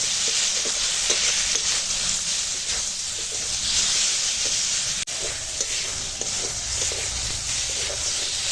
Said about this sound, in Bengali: সর্ষের সঙ্গে আমটা বেশ খানিক্ষণ ভেজে নিয়েছি